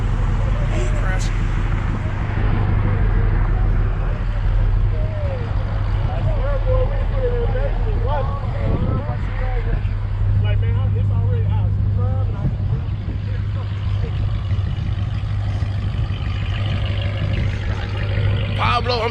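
Big motor of a Chevrolet Nova race car, numbered 797, at a Gapfest drag event: a steady, deep rumble that holds throughout under loud crowd chatter and nearby voices.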